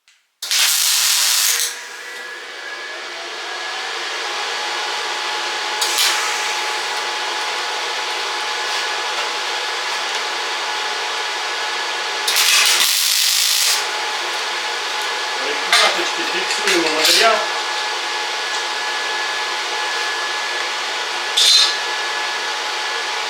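MIG welding of 1.5 mm aluminium with a Jasic semi-automatic welder at 120 A, non-pulsed, using 1 mm wire; a loud, continuous buzzing hiss of the arc with brief sharper bursts at the start and middle.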